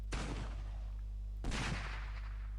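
Two loud gunshot-like blasts about a second and a half apart, each with a long decaying tail, from a gun firing bullets in the destruction game Teardown.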